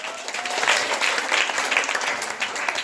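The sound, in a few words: audience applause at a school play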